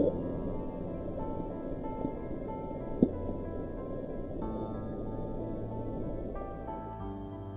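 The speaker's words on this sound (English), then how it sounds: "The audio profile of Bloop does indeed resemble that of a living creature" Bloop, the mysterious deep-sea sound recorded in the ocean, as a continuous low rumbling drone with a brief sharper pulse around the middle, steady and unbroken, with no voices.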